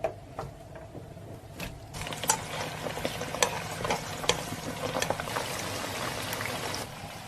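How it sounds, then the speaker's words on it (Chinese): Vegetables and chili frying in cold-started oil in a wok, a steady crackling sizzle with scattered sharp pops and spatters throughout, close and fairly loud. "让它炸"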